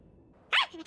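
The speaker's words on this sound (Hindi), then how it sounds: "ये तो साकुरागी परिवार का कुत्ता है।" A single short, sharp bark from a dog rings out close by after a quiet moment, followed by a brief softer whine.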